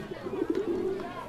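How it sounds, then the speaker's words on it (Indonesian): Pigeon coos close by, a soft low rolling burbling call repeated in quick pulses, with faint outdoor background. "Merpati."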